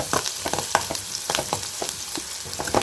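Onions sautéing in a pan for a wedding-style cabbage stir-fry, giving a steady close sizzle and crackle with irregular spattering pops throughout, no talking.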